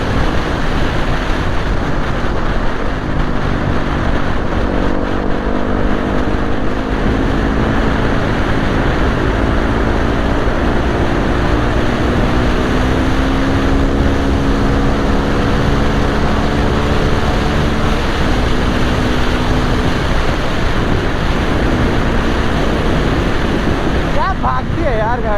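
A Hero Xpulse motorcycle ridden at speed on an open road, its engine hum buried under strong, constant wind rush against the camera, with a faint voice mixed in.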